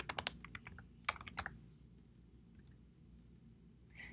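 Quick clicking keystrokes on a computer keyboard, a dense burst at the start and another around the middle, close and crisp, followed by near silence.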